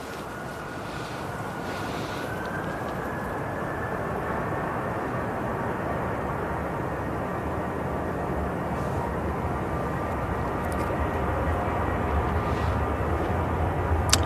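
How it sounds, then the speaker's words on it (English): Jet2 Boeing 737 airliner departing Manchester Airport for Barcelona: a steady, broad engine roar at moderate distance with a slowly rising whine, continuous throughout and free of speech. "So it's Jet2 off to Barcelona. It's 737."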